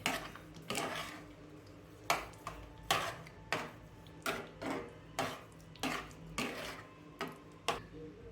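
A spoon scraping and knocking against a pot while pumpkin kheer is stirred with sugar, a series of regular clinks and scrapes roughly once a second, fairly close and quiet.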